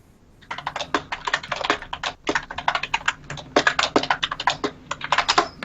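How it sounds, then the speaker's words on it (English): Loud, rapid typing on a computer keyboard, a dense run of close, crisp key clicks with brief pauses, heard alone without talk. "You're typing really loudly"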